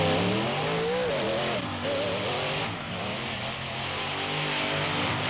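Monster trucks in a side-by-side race at a beach event: steady loud roaring engines with rising and falling revs, close and continuous, over a raspy broadband rumble.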